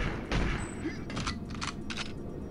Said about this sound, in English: they're just gonna, you know, be able to shoot straight through solid fucking concrete over here